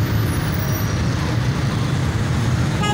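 Heavy Karachi street traffic forms an unbroken, loud roar of car, bus and truck engines, close and constant, with a faint high hiss like an air brake at the very end.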